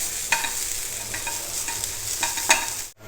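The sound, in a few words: dry-roasting grated coconut in a pan without oil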